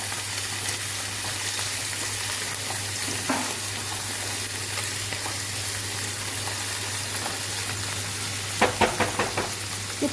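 Fish frying in oil until browned, a steady broadband sizzle throughout, with a low hum underneath and a short run of sharp clicks or knocks near the end.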